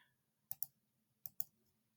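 Quiet computer keyboard keys clicking in two quick pairs while typing a word, crisp close taps separated by silence.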